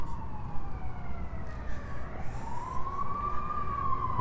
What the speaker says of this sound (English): I hear sirens coming down the street. Here it comes. Fire truck.